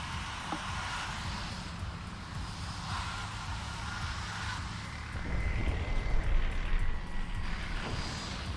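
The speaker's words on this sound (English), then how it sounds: "This heli turbine noise is very frustrating." Steady low droning turbine whine of a helicopter in a flight simulator game, a continuous broadband hum that swells louder midway, with no talking.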